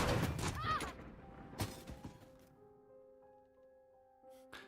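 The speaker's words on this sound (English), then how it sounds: "The sound of the hatchet wheel just falling after the explosion." A hatchet wheel clatters down after an explosion: a burst of blast noise, then a couple of heavy thuds and a lingering metallic ring that fades, with a final knock near the end. No talking.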